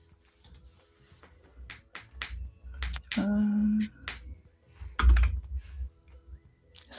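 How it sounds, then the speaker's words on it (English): Typing on a computer keyboard during an online meeting: scattered, irregular clicks and taps, close and fairly quiet, with a brief louder tonal sound partway through. "I can hear you typing"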